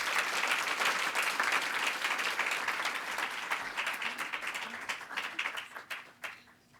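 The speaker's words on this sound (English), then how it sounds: "So please give Jessie and her team a round of applause." A conference audience at an annual meeting panel applauds steadily, a dense wash of clapping that holds strong before gradually thinning out into scattered claps.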